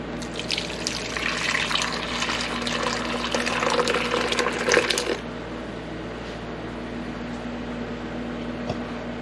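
Water runs and drains into a kitchen sink while soy milk is being made, a steady rushing splash that stops abruptly partway through, leaving a quieter background hum.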